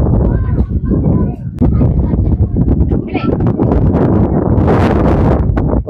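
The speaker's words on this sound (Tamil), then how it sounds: "காற்று நல்லா பயங்கரமாக அடிக்குது." Strong wind on a hill climb at Yercaud buffets the microphone with a steady broadband roar, while people talk intermittently over the gusts.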